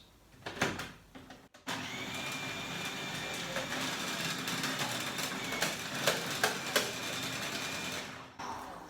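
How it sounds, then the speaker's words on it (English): Food processor grates slices of apple with a steady whirring motor drone and grinding rasp, starting after a few knocks and handling sounds and cutting off near the end. "Put the apple here in slices into the grater first, into the food processor"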